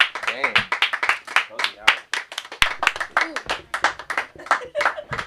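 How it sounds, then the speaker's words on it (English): A comedy club audience claps for the show host, a dense burst of close, sharp handclaps that runs steadily for several seconds with uneven peaks. "Clap it for your host though."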